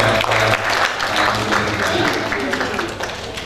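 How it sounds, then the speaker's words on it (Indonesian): Audience applause at a seminar in Idi Rayeuk, East Aceh, fairly loud and steady through the whole stretch, mixed with a low hum and some voices. "Untuk beri semangat, barangkali kita kasih tepuk tangan dulu."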